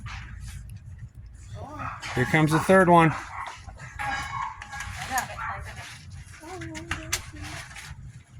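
Dogs bark, yip and whimper excitedly in short bursts close by, with a person talking over the commotion.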